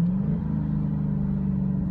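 A Dodge Charger Hellcat engine drones steadily while driving, a low, even rumble heard from inside the car without pause.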